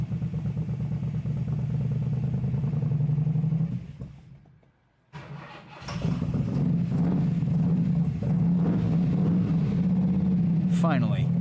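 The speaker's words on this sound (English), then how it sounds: "It's making all the right sounds, but the 460 just isn't happy idling." A big 460 V8 engine in a racing Pony car idles poorly with a deep, uneven rumble and some clatter, briefly dropping away before settling back into a steady, loping idle.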